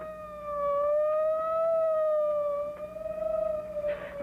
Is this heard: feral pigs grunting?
no